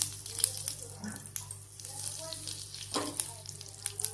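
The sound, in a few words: asafoetida sizzling in hot oil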